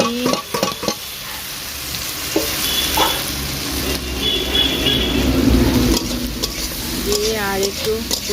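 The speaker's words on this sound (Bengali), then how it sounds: "এবারে দিয়ে দেবো এই যে ভেজে রাখা সবজি" Pre-fried vegetables are tipped into cooked-down spice masala in a pan, bringing a loud close sizzle and busy stirring and scraping, with a few clatters at the start.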